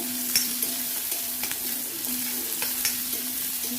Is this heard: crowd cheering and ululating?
no